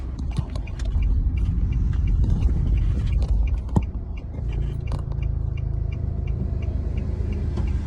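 A car passes close by, a low rumbling roadway wash that builds and then trails off, with scattered small clicks and scrapes nearby.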